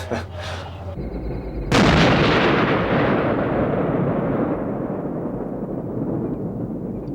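An M60A3 tank main gun fires during gunnery practice, one sharp heavy blast followed by a long rolling rumble that slowly fades, preceded by a brief engine drone.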